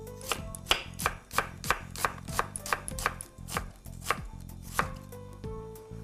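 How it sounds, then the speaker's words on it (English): Knife slicing through an onion on a cutting board, a steady run of crisp, close chops about two per second with short pauses, no voices. "So while my pan's getting hot, I'm gonna slice my onion."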